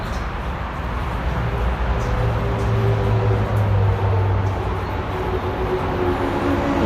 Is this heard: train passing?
yes